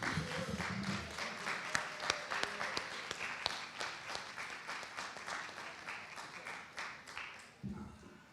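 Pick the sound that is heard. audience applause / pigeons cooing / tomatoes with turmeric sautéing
audience applause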